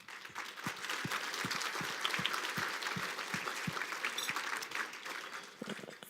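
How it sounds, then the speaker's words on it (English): Moderate applause at a Korean American community gala, a full room clapping steadily from start to finish with a few sharper individual claps standing out near the front. "Please join us in giving them all a round of applause tonight."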